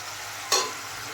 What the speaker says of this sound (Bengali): দিয়ে এখন নেড়ে চেড়ে ভালো করে একটু কষিয়ে নেব